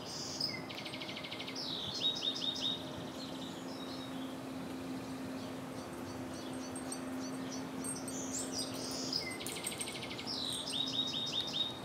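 Small birds chirp outdoors on a spring afternoon, with repeated bright tweets and trills at moderate distance over steady ambient background noise, coming in short bursts near the start and again toward the end.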